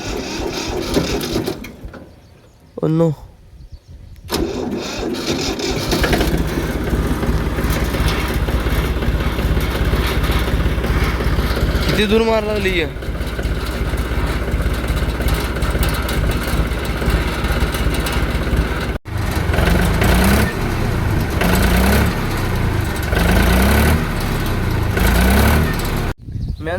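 A tractor engine is cold-started and then settles into a continuous, rattling mechanical running sound, with a brief spoken exclamation near the start.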